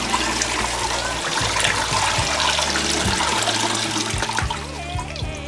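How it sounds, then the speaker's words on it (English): Tap water runs steadily and loudly in a kitchen while freshly cut potatoes are washed, with a constant splashing rush and bumps of the potatoes being handled in the stream. "So after cutting our potatoes, I like to wash them. So I'm gonna wash this again."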